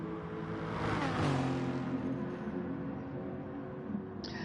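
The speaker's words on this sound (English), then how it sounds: "That Lexus has got a lot of straight line speed" A Lexus race car in a racing game powers down a straight, its engine note rising in a steady continuous drone that swells and then settles, loud and alone.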